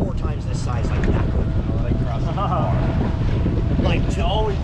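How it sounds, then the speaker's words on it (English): Strong wind buffets the microphone in a constant rumbling roar, with voices talking beneath it near open water. "Real windy now."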